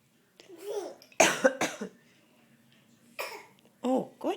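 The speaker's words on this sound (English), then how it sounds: "Oh, you have a cough too?" A person coughing indoors in several harsh bursts separated by pauses, loud and close, with voiced throaty sounds between the coughs.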